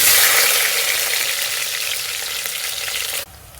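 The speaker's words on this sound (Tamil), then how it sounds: "நான் 2 வெங்காயம் ஆட் பண்ணுறேன்." Onions frying in hot oil with a bay leaf and two cloves, a loud, steady sizzle filling the pan for about three seconds before it cuts off abruptly.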